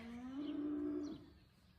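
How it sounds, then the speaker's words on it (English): A cow in heat bawls on a farm, giving one drawn-out low moo of just over a second that rises slightly and then fades. It sounds faint and somewhat distant, heard over a quiet outdoor background. "If you hear a cow bawling in the background,"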